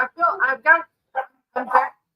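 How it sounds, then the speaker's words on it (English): Several dogs barking and yipping in quick bursts, close and fairly loud, with short gaps between the groups of barks. "As my dogs are barking, like, no more dogs."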